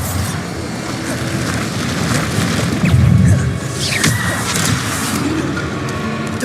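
Bombarda explosive spell from Hogwarts Legacy going off: a loud, dense booming blast with a heavy low thump near the middle, set over continuous game combat noise and effects.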